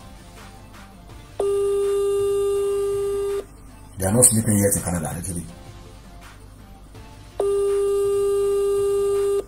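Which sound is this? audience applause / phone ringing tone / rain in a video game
phone ringing tone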